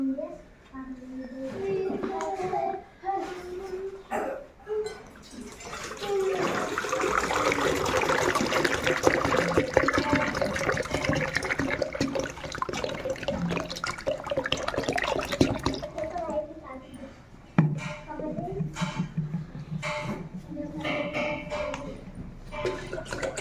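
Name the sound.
water poured from one-litre bottles into an empty bucket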